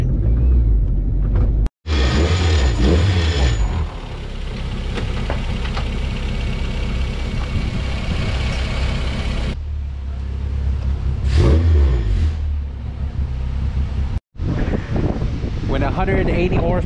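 A turbocharged K20 engine in a wagon revs hard on a dyno, a loud sustained roar rising and falling with wind buffeting, briefly cutting out twice, while people talk over it.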